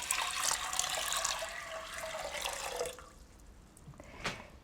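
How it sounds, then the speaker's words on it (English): Four cups of water pour into a pressure cooker pot holding soaked French lentils, a steady close rushing splash for about three seconds that then thins to a few drips and small splashes. "And I'm using 4 cups of water."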